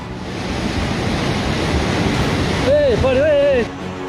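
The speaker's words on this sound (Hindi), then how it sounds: "नाला भर गया है" Flash flood water rushes through an overflowing stream after a cloudburst in Himachal's Sainj valley, a loud, dense roar throughout, with a voice briefly heard over it near the end.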